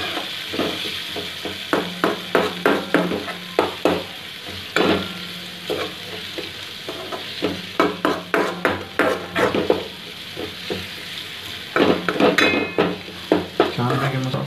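Pasta being stirred with red chilli powder and turmeric in a hot pan, rapid rhythmic scrapes and clacks of a spoon against metal over a continuous sizzle, close and loud.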